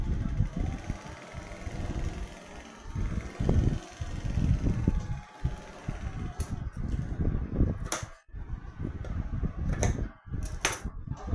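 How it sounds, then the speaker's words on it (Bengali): A sewing machine runs in bursts along the hem of a churidar sleeve, its motor whirring and needle chattering up close, pausing briefly between runs of stitching. "এখানে আবার এক চাপ দূর থেকে একটা সেলাই করে দেবো।"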